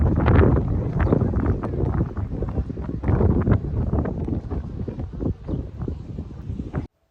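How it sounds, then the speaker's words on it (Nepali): Wind gusts strongly across the microphone on a beach in Malta, a loud, continuous rumbling buffet with uneven surges, ending abruptly. "एटलिस्ट हावा चाहिँ चलेको छ है यहाँनिर।"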